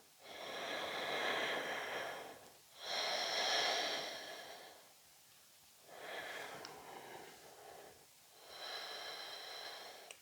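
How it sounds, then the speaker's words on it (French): Slow, deliberate breaths during a yoga flow, with long soft inhales and exhales in a steady rhythm, close and quiet, separated by brief pauses. "Inspire, expire."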